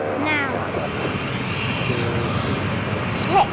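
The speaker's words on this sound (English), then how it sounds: "Starting number one engine now." Aircraft engine starting in a flight simulator, number one engine spooling up into a steady, fairly loud whining roar that holds throughout, with a brief higher chirp near the end.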